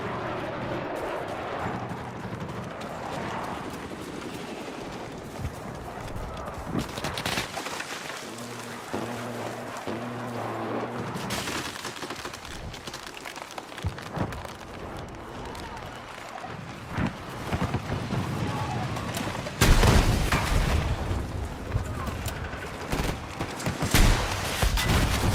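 A video game battle rages with gunfire and explosions as a tank and an armored vehicle are taken out. The din is dense, loud and continuous, full of shots and heavy blasts, with a big surge near the end.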